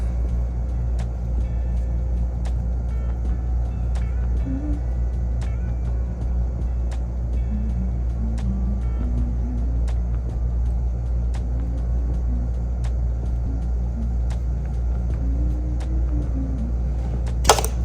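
Steady low rumble of road traffic and passing cars heard from indoors by a window, continuous and moderately loud with faint ticking sounds on top, no voices.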